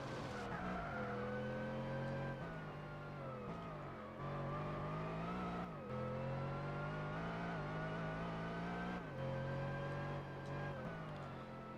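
Race car in the video game Gran Turismo 4 braking hard into a corner, with a steady engine drone whose pitch falls and rises repeatedly as it slows and revs, plus faint tire noise and no talking.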